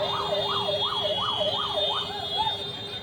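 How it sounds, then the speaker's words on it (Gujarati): A police car siren wails in a fast, steady up-and-down yelp during Holi celebrations, sounding continuously over a constant background hum. "પોલીસની ગાડી આવી ગઈ"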